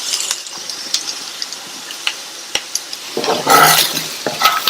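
Potato jeera fry being tossed with chopped coriander leaves in a hot pan, a soft sizzle under a few sharp scrapes and clicks of a spoon, then a louder burst of stirring and frying near the end.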